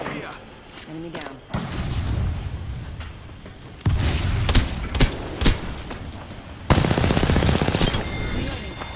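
Video game shooter firefight, with bursts of automatic gunfire and sharp booming shots arriving in several loud waves, plus a voice speaking over the action.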